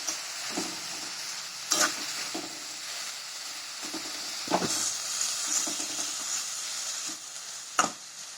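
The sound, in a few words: sautéing carrot, beans and capsicum in pan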